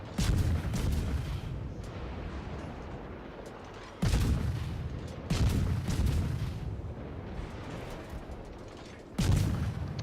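Destroyer naval guns firing in World of Warships during a clan battle: three heavy booming salvos spaced a few seconds apart, each a sharp onset that trails into a long rumbling decay over steady engine and sea noise.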